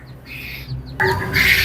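Fifteen-day-old quail chicks squawk sharply while being handled for weighing: a couple of short, shrill, close cries, the second burst louder and harsher than the first.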